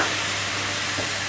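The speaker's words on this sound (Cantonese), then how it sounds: "隻鑊燒熱咗，我哋倒啲生抽落去" Soy sauce hits a hot wok and sizzles loudly, a dense, even hiss filling the short moment close up.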